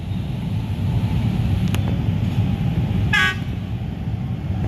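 A train passes close by at a level crossing near Gambir, a loud, continuous rolling rumble and clatter throughout, with a brief horn toot partway through.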